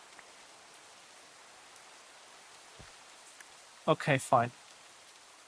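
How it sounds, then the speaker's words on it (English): Steady soft rain hisses over a Minecraft world at night, a constant even patter with no distinct drops, and someone speaks briefly near the end. "Oh, it's raining."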